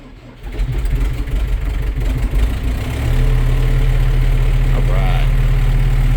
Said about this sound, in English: I start the tractor so it can warm up before we go feed hay.